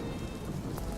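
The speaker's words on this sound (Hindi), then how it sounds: "बाहर बहुत बारिश है" Heavy rain roars in a dense, continuous wash, fairly loud, with no one speaking.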